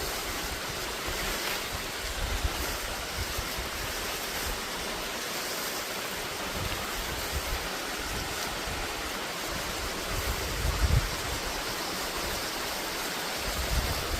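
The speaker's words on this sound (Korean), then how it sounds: "조금 물이 많이 흐르고 있는" Rushing water pours steadily in a broad, even roar from a winter waterfall, Geumgang Falls near Pyochungsa, heard from nearby, with no voices.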